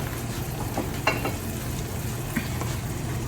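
Food sizzles gently in a pan with green pepper as it is stirred, a soft continuous frying hiss broken by a few faint scraping taps.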